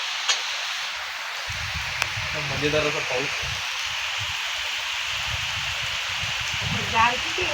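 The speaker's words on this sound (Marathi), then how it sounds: "पाऊस तर आता आपण बघताय की पाऊस चालू झालाय" Steady rain falls outdoors in a village setting, giving a continuous soft hiss across the whole stretch, with faint voices briefly heard under it.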